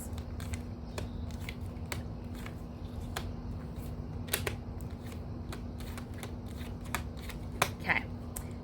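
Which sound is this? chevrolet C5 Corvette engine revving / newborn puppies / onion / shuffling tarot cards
shuffling tarot cards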